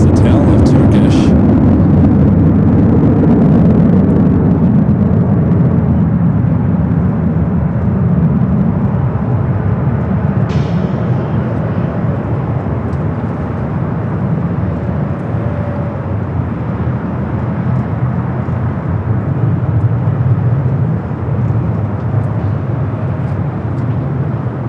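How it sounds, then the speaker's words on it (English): A Turkish Airlines A350 heading out for a north-side takeoff at LAX sends a loud, constant jet roar that dominates throughout, with a voice talking over it. "A350 heading up for north sided takeoff."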